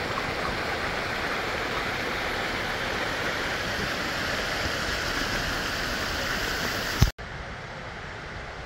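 A waterfall near a local dam roars as a dense, steady rush of falling water, close and loud throughout, with a brief sharp knock just after the seventh second.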